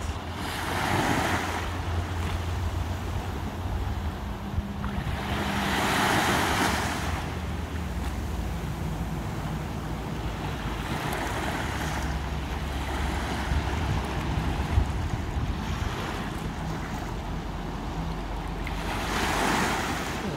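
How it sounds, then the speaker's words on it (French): Sea waves wash in and draw back in slow, soft surges, the hiss of surf rising and falling every few seconds over a constant breezy rumble, calm and unbroken by speech. "continuez à écouter le son de la mer, apaisante"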